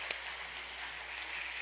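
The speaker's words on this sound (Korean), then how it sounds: "박수로 모시겠습니다" Applause from a church youth sports-day gathering as people are called to the front; steady, moderately loud clapping from a crowd that fills the short moment, with no talking over it.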